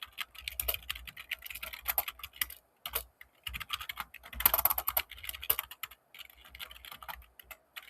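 Rapid, irregular clatter of a computer keyboard as code is typed, bursts of close key clicks separated by short pauses, no voices.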